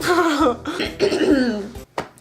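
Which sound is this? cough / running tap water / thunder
cough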